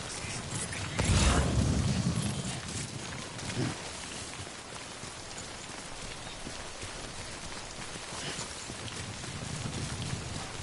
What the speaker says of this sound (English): Oh fuck, it's raining.